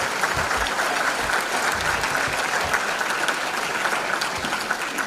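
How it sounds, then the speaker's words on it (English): A gala crowd at a Tuskegee Airmen event breaks into dense, sustained applause, a steady wash of many hands clapping together at an even level throughout. "Big round of applause."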